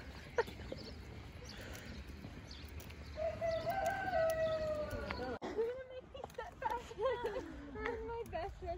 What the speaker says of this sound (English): look at all these chickens